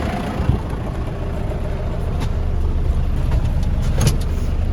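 A tractor engine runs while hauling manure, a steady, loud mid-range drone heard close as from the cab, with occasional clunks and rattles over the continuous rumble.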